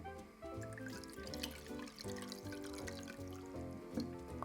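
Water poured into concentrated soy sauce in a kitchen, a steady close trickle and splashing pour lasting several seconds with no voices.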